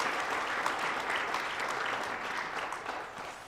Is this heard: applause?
yes